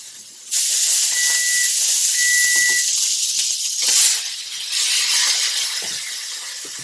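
A flat iron steak sears in a hot pan, giving a loud, steady, close hiss with a faint whistling tone that swells and eases, continuing throughout without talk.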